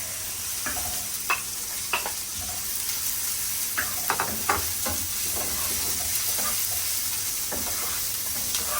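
Garlic sizzles steadily in a hot pan while a spoon scrapes and stirs it in a series of short, distinct strokes, close and moderately quiet.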